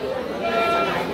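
A goat bleats briefly amid the chatter of a busy livestock market in Ajmer, with voices talking over and around the animal's call.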